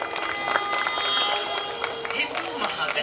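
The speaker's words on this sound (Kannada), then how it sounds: "ಎಲ್ಲರೂ ಅವರಿಗೆ ಚಪ್ಪಾಳೆಯೊಂದಿಗೆ ಅಭಿನಂದಿಸಬೇಕು" Audience applause at a Hindu Mahaganapati cultural programme with Bharatanatyam dance, honouring a guru: a steady, fairly close patter of many hands clapping for about three seconds, with voices mixed in underneath.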